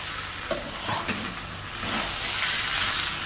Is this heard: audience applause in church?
no